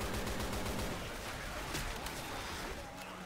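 Rapid gunfire in Left 4 Dead 2, a dense, continuous rattle of shots that stays fairly faint, with talking mixed in.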